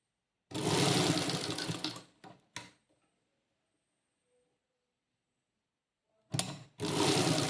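Sewing machine stitching fabric, running in two loud close bursts of rapid mechanical whirring separated by a few seconds of near silence, with no talking.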